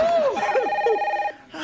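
A telephone rings in the sitcom Martin, a clear electronic ring with a sustained tone, heard over a reacting voice that rises and falls beneath it.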